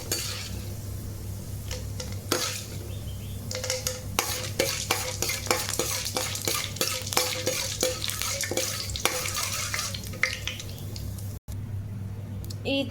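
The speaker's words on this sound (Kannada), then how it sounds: "ಇಲ್ಲಿ ಕಡಲೆಬೇಳೆ ಎಲ್ಲ ಹಾಕೊಳ್ಳುವಾಗ ಸ್ವಲ್ಪ ಕೈ ಆಡಿಸ್ತಾ ಇರಬೇಕು, ಇಲ್ಲಾಂದರೆ ಸೀದೋಗ್ಬಿಡುತ್ತೆ" Chana dal frying and being stirred in a steel pan, with a continuous sizzle under repeated close scraping and clinking of a spoon against the metal, steady throughout.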